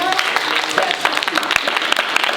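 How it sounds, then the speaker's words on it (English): A school assembly audience at a middle school applauds steadily, dense clapping filling the whole stretch with a few louder individual claps standing out. "Clap your hands."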